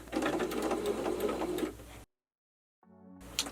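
A sewing machine stitches in a rapid, rhythmic whir for about two seconds, then stops, leaving near silence before a faint clatter returns.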